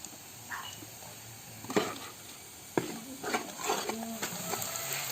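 Coriander powder dry-roasts in a pan after turmeric for a Kerala chicken biryani: a soft, low sizzle with a few spoon scrapes and stirring clinks, quiet and close.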